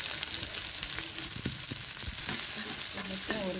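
Chopped onions hit hot oil already tempered with mustard seeds, urad dal and chillies for a beans poriyal, giving a steady close sizzle with a few soft stirring knocks and no voices.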